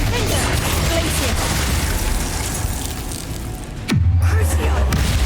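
Confringo spell blasts in the video game Hogwarts Legacy rumble as loud, dense booms and crackling impacts under a player's voice, followed by a sharp burst near the end that drops into a low, heavy rumble.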